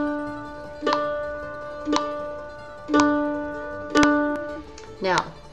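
Mandolin open string picked with slow, even downstrokes on quarter notes, five bright ringing plucks about a second apart, each decaying before the next, played up close with no talk.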